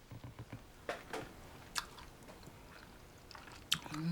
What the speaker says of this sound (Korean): 과메기 무침 시식은 이발소 사장님의 부인이 합니다